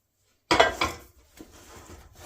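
A thick candy mixture being folded together with Fritos in a mixing bowl: after a moment of silence come close scraping and rubbing strokes, loudest at first and then softer and irregular.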